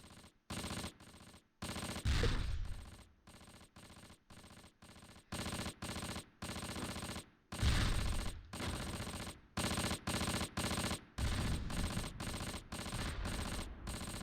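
Tank guns and machine guns fire in the Close Combat war game, set in fog at Val De See in 1944, as loud repeated bursts broken by short silences, with a few heavier booming impacts mixed in.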